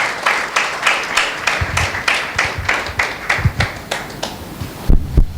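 A church congregation claps in unison, loud and near, with a steady rhythmic beat of about three strong claps per second that breaks into looser clapping at the end.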